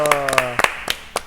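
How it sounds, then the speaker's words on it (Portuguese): A small group gives a brief round of applause, a handful of separate sharp claps spaced irregularly over about a second, with a voice briefly audible at the start. "Salve de palmas para o Will!"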